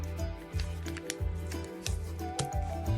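Paper is being folded into a big triangle for a simple heart, producing close rhythmic crisp creases and rustles that repeat roughly every half second.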